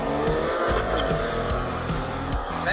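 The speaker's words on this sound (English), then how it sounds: "Banging gears, look at that." A right-hand-drive six-cylinder Nissan Skyline drag car with a manual gearbox roars down a drag strip at a racing event, its engine revving hard and dropping in quick repeated stepped gear changes, loud and close, with a brief tire screech.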